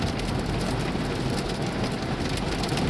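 Heavy rain mixed with small hail pours down outside in Dayton, Nevada, a dense, continuous, loud hiss of drops hitting surfaces with no pauses.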